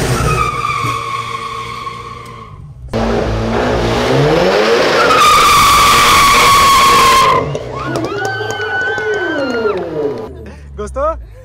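A Volkswagen Jetta TSI with Stage 3 tuning revs hard before launching, its engine note climbing loudly as the tires squeal and skid for several seconds, then the revs drop and shift. Voices talk over parts of it.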